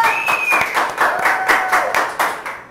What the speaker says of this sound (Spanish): Entonces un aplauso para todos los que nos van a acompañar.